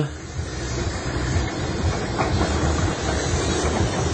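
A retro train rolls along slowly at a railway heritage festival in Haivoron, a continuous low rumble with hiss, heard close and steady throughout.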